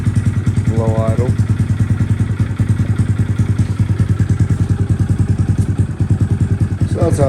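A Honda Grom motorcycle exhaust at low idle gives a steady, rapid, close-up thumping putter throughout, with a voice briefly speaking over it near the start and end.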